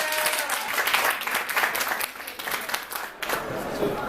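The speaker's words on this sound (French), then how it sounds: "je vous demande d'applaudir Neil Shusterman" An audience at the Montreuil children's book fair (Salon du livre et de la presse jeunesse) applauds author Neil Shusterman, a dense, sustained wash of many hands clapping that fills the room, with a faint voice or two underneath.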